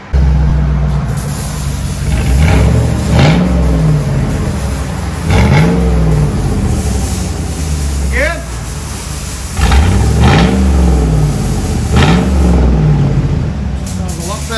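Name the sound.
2001 Chevy Tahoe 5.3L V8 revving with straight pipes, no muffler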